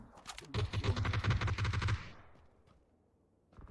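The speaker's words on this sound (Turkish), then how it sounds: "Sağdan ben sıkıyorum" Rapid gunfire in PUBG, a close burst of repeated shots lasting about a second and a half before it cuts off, followed by quiet.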